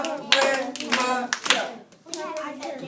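Children in a classroom clap out a word syllable by syllable, with sharp, close claps in short rhythmic bursts and young voices chanting along between them.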